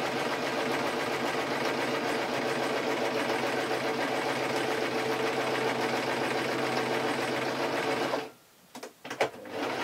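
A sewing machine stitches steadily over a thick seam of eight taffeta layers, a continuous close whirring hum for about eight seconds before it stops, followed by a few small handling clicks.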